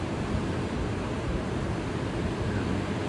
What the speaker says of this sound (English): just the sound of the ocean this morning, I absolutely love it